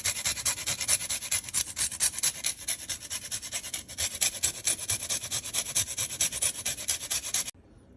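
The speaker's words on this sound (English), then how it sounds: "I'm adding some lemon zest." Lemon being zested over a rigatoni pasta with cherry tomato and caper sauce, a steady close scraping rasp with rhythmic strokes lasting several seconds before stopping abruptly.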